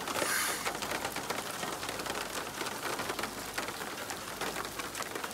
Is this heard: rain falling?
yes